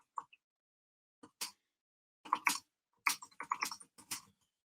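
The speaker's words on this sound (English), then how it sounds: "I will type" Typing on a computer keyboard, close and quiet, in short irregular bursts of clicky keystrokes separated by pauses, with no talk over it.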